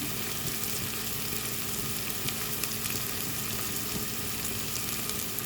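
Beef curry masala frying in a pan with coriander powder added, a steady, dense sizzle running evenly throughout with no voices.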